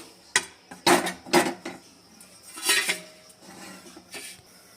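A metal kadai is set down on a gas stove with several sharp clanks and scrapes of metal on metal, loud and close, followed by a few softer knocks as it settles.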